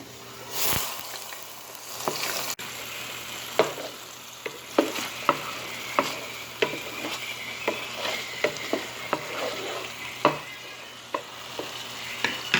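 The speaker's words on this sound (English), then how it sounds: "I'm going to add our shrimp" Shrimp stirred into a pot of simmering coconut rice: a steady low sizzle with repeated sharp spoon scrapes and taps against the pot, close and fairly loud, no voices.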